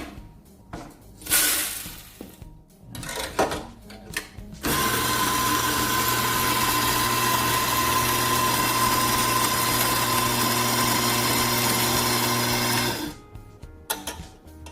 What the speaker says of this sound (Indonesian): Oke, kita giling kopinya.